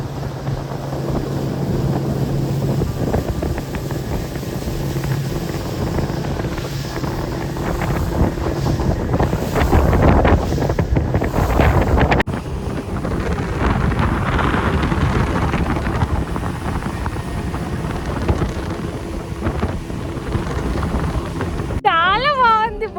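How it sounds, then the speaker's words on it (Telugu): A speedboat roars across the water as strong wind buffets the microphone in a constant loud rush, with snatches of voices underneath. "స్పీడ్ బోట్ ఎక్కినాం మేము"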